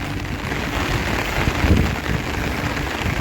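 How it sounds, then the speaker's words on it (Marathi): Steady, dense heavy rain pours down without a break on a jungle trek, a broad wash of hiss with low drumming underneath, no voices. "पहा ना एवढा पाऊस आहे आता इथे"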